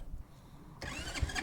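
A Kayo Bull 125 EFI kids' ATV engine, fuel-injected, sitting in neutral: a low, close rumble that suddenly grows louder and brighter after a quiet start, then runs steadily with slight rough pulses.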